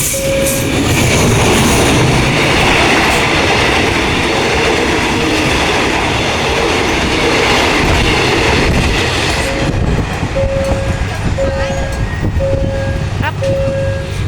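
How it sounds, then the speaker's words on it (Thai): Loud rumble and clickety-clack of a Thai passenger train, Thonburi–Nam Tok service 257, rolling past close by at a road crossing, with a repeating warning bell tone joining as it continues. "ไปแล้ว รถไฟไทยนะครับ ผ่านถนนไปได้ครับ"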